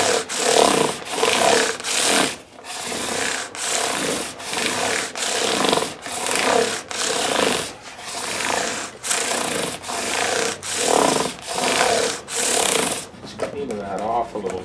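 A maple fingerboard on a Fender Jazz Bass being sanded with 1200-grit emery cloth, heard as close, steady back-and-forth rubbing strokes in an even rhythm of about one per second, followed by a brief lighter scratching at the end.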